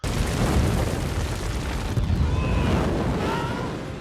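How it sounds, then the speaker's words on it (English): Explosions from a siege battle in the 2016 monster film The Great Wall, where balloons blow up; loud continuous rumbling booms with bursts fill the whole stretch, with no talk over them. "you just hear these explosions and the balloons are blowing up, killing everybody"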